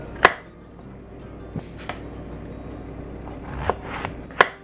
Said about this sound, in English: I'm just going to cut everything into the same size pieces, because it makes everything cook a lot more evenly.